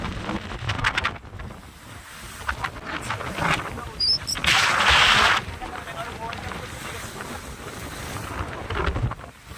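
Strong storm wind, gusting at roughly 90 to 110, roars across a fishing boat out at sea after hilsa, loud and continuous, buffeting the microphone with a rising blast midway, waves washing beneath and a voice faintly buried under it.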